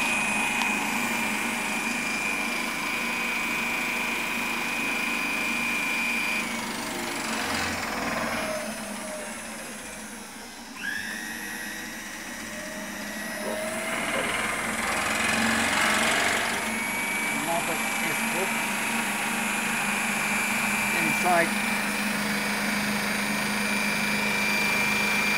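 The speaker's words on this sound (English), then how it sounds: "This is my generator." A homemade generator in a workshop setting runs steadily for the whole stretch, a continuous electrical hum with a high whine, briefly dipping and shifting pitch midway before settling back to a constant drone.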